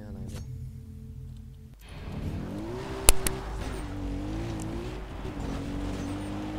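Race car engines roar in the video game Far Cry 3, a steady loud motor drone with shifting pitch and a sharp clank partway through, while someone talks over it.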